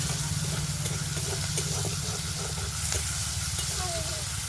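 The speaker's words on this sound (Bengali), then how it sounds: "পেঁয়াজগুলো হালকা ভেজে নেব" Two medium chopped onions frying lightly in a pan give a steady, close hiss and sizzle with occasional stirring clatter throughout.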